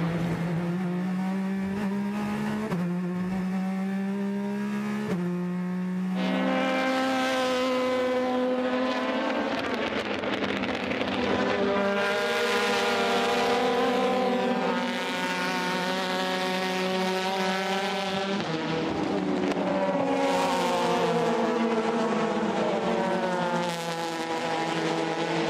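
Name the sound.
race cars at the 24 Hours of Le Mans, including a Ferrari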